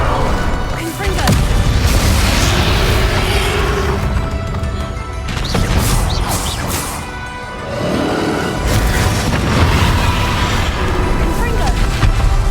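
Fiery explosion spells from Hogwarts Legacy burst repeatedly, loud crashing blasts and booms recurring over about twelve seconds amid dense battle noise, with a voice heard in the mix.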